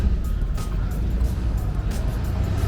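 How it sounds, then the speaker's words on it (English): A car engine rumbles steadily nearby, a low continuous drone with faint hiss as the vehicle rolls slowly down an alley in San Francisco's Chinatown. "every time we get set up, a car decides to come down our alleyway"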